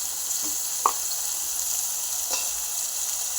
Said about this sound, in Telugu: ఉల్లిపాయలు ఇలా వేగుతున్నాయి కదండి